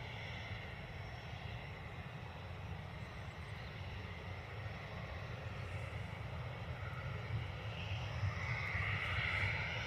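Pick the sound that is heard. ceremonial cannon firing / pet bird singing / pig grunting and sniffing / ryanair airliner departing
ryanair airliner departing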